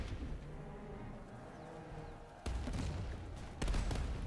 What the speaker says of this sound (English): we've got these light infantry firing. We've got the dragoons firing.